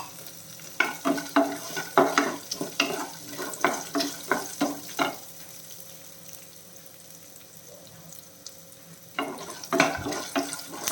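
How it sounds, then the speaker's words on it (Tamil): A handful of cashew nuts fry in a pan for coconut poha upma, with repeated scraping stir strokes over a steady sizzle. The strokes pause for a few seconds midway, then resume close and clear, with no talking. "ஒரு நாலஞ்சு கேஷ் நட்டு அதையும் சேர்க்குறேன் அது உங்கள் விருப்பம் உங்களுக்கு நிறைய வேணால் சேர்த்துக்கலாம் எல்லாமே கொஞ்சம் ஃப்ரை ஆகட்டும்"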